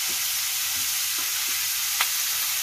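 Food being stirred in a pan while cooking the day's catch: a few soft, scattered scrapes of the utensil over a steady low sizzle, close and fairly quiet, with no talking.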